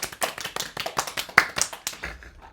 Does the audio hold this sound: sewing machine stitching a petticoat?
no